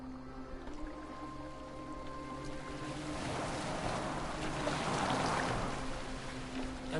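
A longship glides across open water in Assassin's Creed Valhalla, with a steady wash of waves and wind swelling midway, while low game music tones sit underneath.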